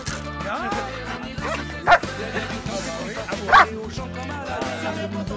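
A dog in training barks twice on command, loud and close, the two sharp barks spaced a couple of seconds apart amid quieter yips and whimpers.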